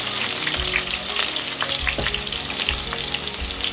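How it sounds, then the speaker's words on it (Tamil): Chopped onions frying in a pan for a sambar with dal and ridge gourd, a steady close sizzle with occasional stirring scrapes running throughout, no voices. "இப்போது வெங்காயத்தை சேர்த்துடலாம்"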